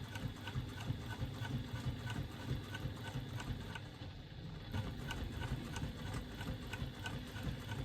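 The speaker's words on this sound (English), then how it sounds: "I'm going to come back and I'm going to do the line of stitching in between." A sewing machine stitches a line across a bag panel with a steady, rapid needle rhythm that runs throughout, quietly recorded and briefly slowing near the middle.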